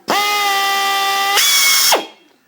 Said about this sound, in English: heavy duty drill